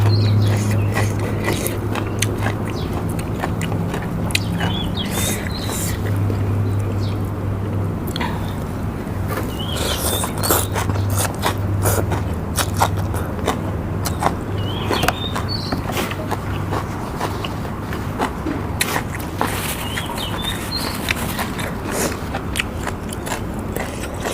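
Crunchy bites into fried chillies during a meal alongside Thai fish dip, a long run of loud, close, crackling crunches and chewing repeated steadily with no talk.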